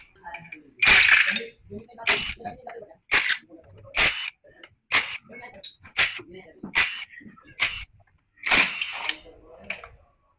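Screws come out of a scooter's CVT cover under an impact tool, giving a series of sharp, close mechanical bursts repeated about once a second.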